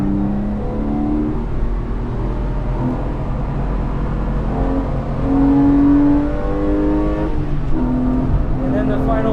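Porsche 997 C2S in lightweight trim accelerating hard around a race track, a steady loud engine drone climbing in pitch through the gears with a brief lift between shifts, heard from inside the car.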